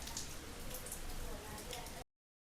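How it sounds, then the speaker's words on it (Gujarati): Heavy rain falling outside during a trip to Surat, a dense steady patter of drops on surfaces that cuts off abruptly near the end, with no talking. "અહીંયા બહુ જ વરસાદ આવી રહ્યો છે"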